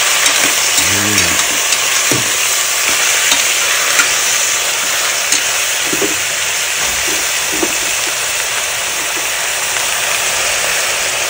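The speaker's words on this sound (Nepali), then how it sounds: "प्याज यतिको रातो भएपछि मासु ट्वाट्ट हालिदिन्छु" Meat frying with reddened onions in a pan, a continuous crackling sizzle with occasional stirring scrapes and clinks, steady and fairly close throughout.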